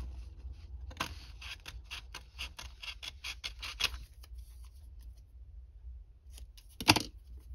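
Scissors snip through paper to cut out handmade labels, a close run of quick crisp snips followed by a pause and one louder final cut, no talking.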